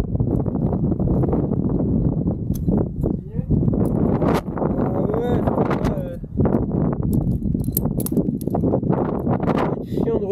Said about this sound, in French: Oh, il y a des rafales mon gars.